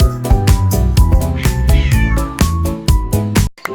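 A kitten meows loudly and close in a rhythmic series of calls set against music in a children's song, ending with a brief pause and a small click.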